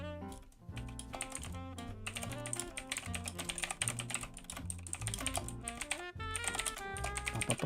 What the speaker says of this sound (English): I love mechanical keyboards.